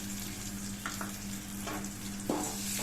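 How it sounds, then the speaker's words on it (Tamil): Tomatoes frying in a pan for an egg curry, a soft, steady sizzle with a few brief stirring scrapes, fairly quiet and heard without talk. "தக்காளி போடுறேன்"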